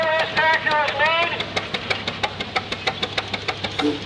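A vintage tractor built in Appleton, Wisconsin runs in a thresheree parade, its engine putting out an even stream of sharp, regular knocks near the listener, with someone talking over the start.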